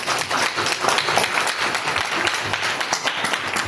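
Wedding guests break into applause, a moderately loud, uneven patter of clapping hands that pulses throughout without anyone speaking over it.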